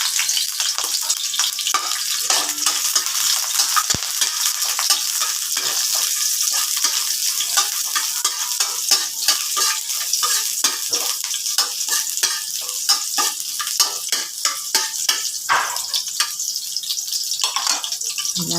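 Onions sautéing loudly in olive oil and oyster sauce in a pan for ginisang cauliflower, a dense continuous sizzle with stirring scrapes and crackles throughout.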